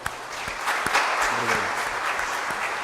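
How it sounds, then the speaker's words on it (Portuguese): Congregation clapping during a livestreamed Sunday Mass in the 23rd week of Ordinary Time: a dense round of applause lasting a few seconds, with a few sharper individual claps and faint voices mixed in. "Acho que fica bem uma salva de palmas, não é?"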